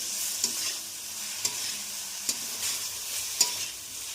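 Boiled potatoes stirred and fried with masala in a pan for kela kofta, a constant bright sizzle broken by four sharp spoon scrapes at regular intervals, close and without talk.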